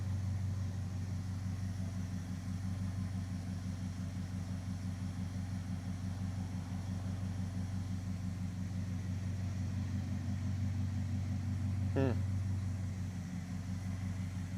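The Crew Cab Charger's engine idles steadily with a low, even rumble throughout, with one brief sharp rise near the end and no talk over it.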